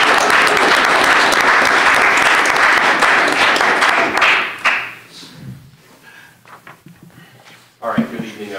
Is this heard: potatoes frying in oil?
no